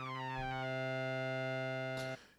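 A sustained, buzzy Elektron Analog Four synthesizer tone with synced oscillators and bright, metallic overtones holds steady, then cuts off abruptly near the end.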